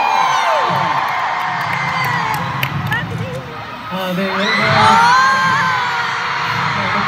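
A large K-pop concert crowd at a Seoul tour show screams and cheers in waves, swelling loudly after a brief lull, while a performer talks over the noise.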